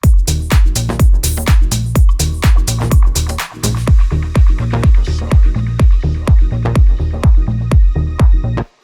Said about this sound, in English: you can hear that delay and reverb carry over into this